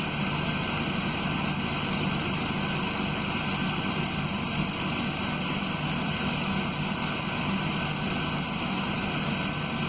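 The 3.0 litre engine of a 2001 Ford Escape runs steadily with the hood open, a loud, continuous hum with a constant whirring drone and no talk over it.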